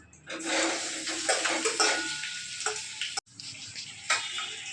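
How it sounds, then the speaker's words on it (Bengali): Boiled potatoes hit a hot wok with a burst of sizzling, then crackling frying with scraping stirs and a brief pause before the sizzle resumes. "এই আলুগুলো কড়াইয়ের মধ্যে দিয়ে দিচ্ছি"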